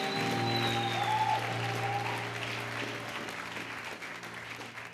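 A church congregation claps in a dense, sustained round of applause that rises early and slowly tapers off, with a voice and a tonal hum mixed faintly underneath.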